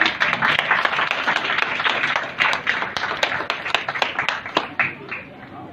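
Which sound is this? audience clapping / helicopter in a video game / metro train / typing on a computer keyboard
audience clapping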